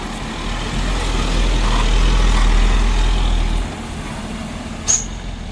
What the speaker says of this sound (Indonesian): mobil muatan sawit terpantau melintas